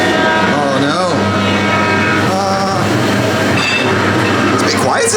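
A ghost train ride car rolls along its rails toward the riders at Blackpool Pleasure Beach, a loud, continuous rumbling clatter with a droning hum and squealing tones, with voices faintly mixed in.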